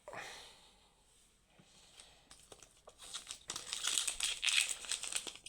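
Plastic wrappers of Pokémon booster packs crinkle and tear open close up, starting faintly and building into loud, busy crackling rustles.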